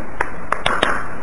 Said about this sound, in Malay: dengan tepuk tangan kanan di atas belakang tangan kiri